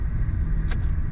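1992 Ford F-250 XLT pickup, 4x4 with a five-speed manual, rumbling steadily while driving, with a low engine drone heard from inside the cab and a brief faint rattle.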